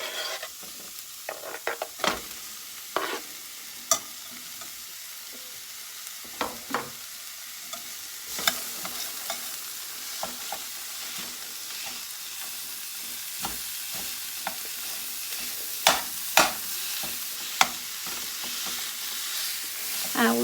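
Regular-roll breakfast sausage frying in a pan for stuffing: a steady close sizzle broken by scattered sharp pops and clicks of a utensil stirring and scraping, with no talking.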